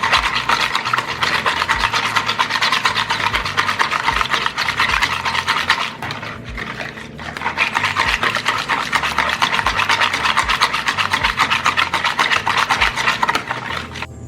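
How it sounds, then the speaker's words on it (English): Ingredients, brown sugar among them, whisked together in a bowl make a steady, close, rapid scraping and swishing that runs unbroken apart from a short dip in the middle, with no talking. "then we are going to whisk everything together"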